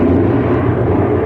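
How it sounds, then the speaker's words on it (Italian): An airplane roars overhead as a sound effect within a told story, a loud, steady low rumble filling the short moment with no voices. "È un aereo che sta per atterrare!"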